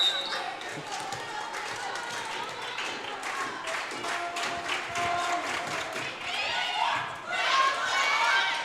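Home crowd at a women's volleyball match against Montana Western, on its feet cheering and clapping through a steady indoor roar, with a brief swell near the end.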